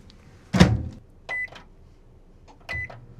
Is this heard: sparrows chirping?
no